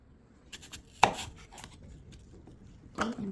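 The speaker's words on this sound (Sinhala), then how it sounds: "අයියටයි මල්ලිටයි සෑන්ඩ්විච් එක දෙකට කපනවා." A knife slices through a double-ham and cheese sandwich on a board, giving a sharp chop at the start and a second firm cut near the end, with a few soft taps between; no talking.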